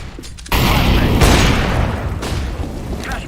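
A flashbang grenade going off in a multiplayer shooter video game, a sudden loud burst that decays into a long roaring rumble, with faint voices around it.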